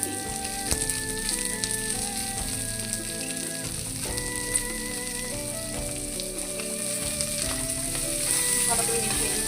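Ghee sizzling in a pan while chira pulao is made, a continuous crackling fry with occasional stirring scrapes, close and steady, no one speaking.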